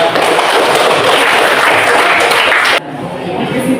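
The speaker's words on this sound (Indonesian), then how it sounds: "Nah, tepuk tangan" A classroom full of students bursts into loud, dense applause that holds steady and then drops off sharply partway through, leaving softer scattered clapping.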